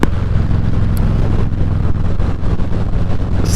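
A 2021 Harley-Davidson Street Bob 114 V-twin rumbles along at low revs around 2,500 RPM, a loud steady deep chug heard from the riding position and heavily mixed with rushing wind noise.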